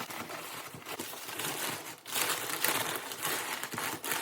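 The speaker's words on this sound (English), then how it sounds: "You can also just use wadded up paper." Wadded-up packing paper crumpled and stuffed into a shipping box around a fresh flower bouquet, close and loud, a continuous dense crinkling with brief pauses between handfuls.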